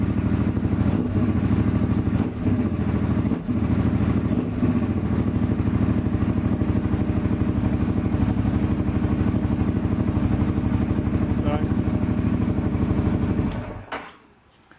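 A Honda Transalp XL700 motorcycle engine idles steadily and close by for a long stretch, a continuous low rumble that is briefly revved, then shut off near the end.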